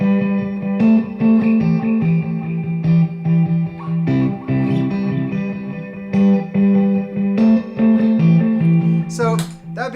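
Electric guitar playing a rhythmic part through stacked delay pedals including an Electro-Harmonix Memory Man set with many repeats, giving dense echoing strums and chords that smear together, loud and close throughout.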